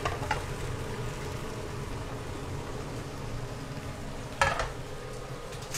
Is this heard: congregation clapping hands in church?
no